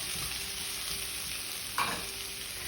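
Vegetables and garlic fry in a pan for a mixed vegetable kara kuzhambu, a steady soft sizzle with a brief stirring scrape partway through.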